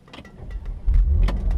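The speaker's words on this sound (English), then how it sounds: "we can hear this engine" A 2016 Porsche Macan GTS 3.0 V6 engine turns over and catches, its low rumble swelling and settling into a steady idle, with a few small clicks and rattles early on.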